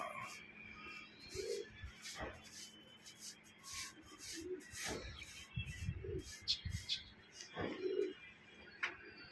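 Pigeons of a fancier's flock coo in soft, low repeated phrases outdoors, with occasional bird chirps and faint voices in the background.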